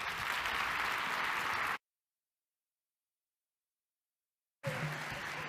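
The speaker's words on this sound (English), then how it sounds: "Can we give him another round of applause?" An audience at a networking talk applauds the speaker with a dense wash of clapping that cuts out abruptly into silence, then resumes just as full for a moment at the end.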